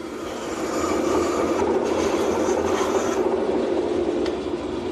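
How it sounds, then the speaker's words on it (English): A saw cutting the inside diameter of a wooden patio trolley wheel hub, a steady close rasping grind that runs nearly the full clip without pause. "Now I'll cut the inside diameter, leaving the line so I can sand it smooth."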